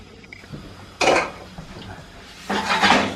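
Two bursts of clattering and scraping as onions are tipped into a pan of melted butter, close by, with quiet kitchen background between them.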